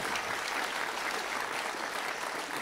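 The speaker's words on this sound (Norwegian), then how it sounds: "Stor applaus til deg også." Steady, full applause from a crowd at a brass band's 100th anniversary concert, dense clapping with no gaps throughout.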